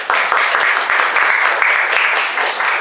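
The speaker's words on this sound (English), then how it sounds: "Please give a big round of applause." A crowd at an art talk applauds in steady, sustained clapping, loud and close, with no speech over it.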